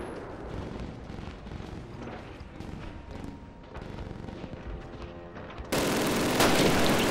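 Machine gun fire in a Call of Duty battle, dense continuous bursts with explosions and combat noise throughout, swelling into a louder, harsher roar near the end.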